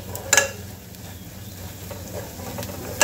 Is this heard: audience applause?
no